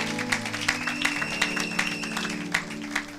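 A church congregation at a Sunday service applauds in an uneven, moderately loud stream of claps, with sustained organ or keyboard tones beneath and a voice speaking over it.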